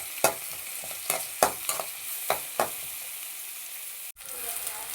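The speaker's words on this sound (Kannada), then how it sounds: "ಸ್ನೇಹಿತರೆ, 6 ರಿಂದ 8 ಹಸಿಮೆಣಸಿನಕಾಯಿ ಹಾಕ್ತಾ ಇದ್ದೀನಿ. ಇದನ್ನು ಚೆನ್ನಾಗಿ ಬೇಯಿಸ್ಕೊಳ್ಳೋಣ." Six to eight green chillies fry in a pan for vegetable biryani, a steady close sizzle broken by repeated scraping strokes of a stirring spoon, then a brief cut before the frying carries on.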